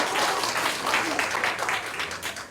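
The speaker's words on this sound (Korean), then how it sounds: "박수." Applause from a seminar audience, a dense and fairly loud patter of many hands clapping together that holds steady for a couple of seconds before tapering slightly.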